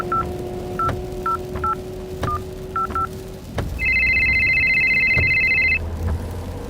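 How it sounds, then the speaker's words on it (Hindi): A series of short telephone keypad tones beep in an irregular sequence as a call is placed through a car's Bluetooth, followed by a long steady ringback tone, all fairly close and clear. "कृतिका ने कार के ब्लूटूथ से एक फोन कॉल लगाया।"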